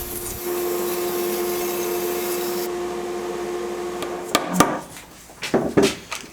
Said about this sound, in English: We'll put it on the drill press and we'll cut a bunch of plugs